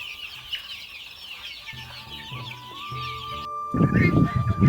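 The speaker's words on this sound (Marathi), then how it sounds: "ती पिल्ला प्युअर देशी गावरान कोंबडीची पिल्ला आहेत" Pure desi native village chicks and hens cluck and chirp close by among steady high peeping, while someone speaks over them and a rustle of handling noise rises at the end.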